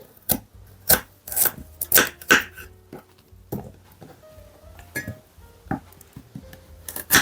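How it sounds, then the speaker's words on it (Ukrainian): A knife slices carrots into rings on a cutting board while vegetables are prepared for meat baked in foil. The crisp, close chops come at an irregular pace, with short pauses between them. "Тепер моркву кілечками"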